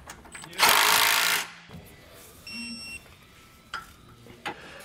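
Nuts on a TorkLift SuperHitch Magnum trailer hitch receiver are run down and torqued: a loud burst of power-tool whirring, then softer ratcheting clicks and short tool bursts close by, with no talk.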